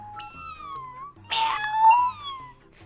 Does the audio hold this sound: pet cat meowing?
yes